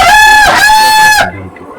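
A native rooster on a rooftop terrace chicken farm lets out one loud, close crow that ends abruptly, with faint background noise after it.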